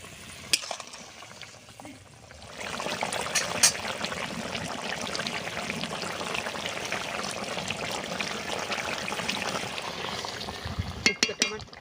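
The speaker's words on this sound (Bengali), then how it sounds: "ঝোলটা ফুটে গেছে, কুপ্তাগুলো আমি ঢেলে দেব।" Shrimp-stuffed cabbage koftas drop into boiling gravy, followed by a steady bubbling, sizzling simmer with soft stirring sounds and a few sharp clinks near the end, close and moderately loud, with no talking.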